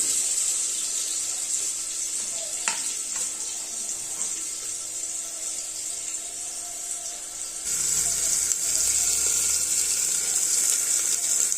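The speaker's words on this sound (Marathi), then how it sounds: "आता आपण कांदा टाकूया परतायला" Chopped onion going into hot oil in a pan for rajma masala rice, giving a steady sizzling hiss that jumps louder and denser partway through, with no talking.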